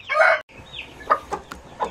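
American breast chickens, two roosters among hens, clucking close by during evening feeding, with a loud burst of squawking at the start followed by scattered short clucks and calls.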